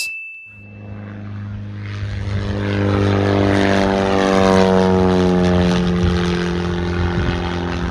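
A propeller aircraft flying from Solent Airport toward Shoreham drones steadily and loudly after a short tone, its engine building and holding a strong, even hum with no talking.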